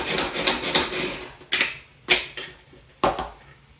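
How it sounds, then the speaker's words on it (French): Ingredients are finely chopped by hand with a knife on a board: a stretch of soft rocking and scraping gives way to three sharp, separate chops, close up and with no voices. "On met la main sur le dessus. On sort ses muscles. Et on va venir hacher finement."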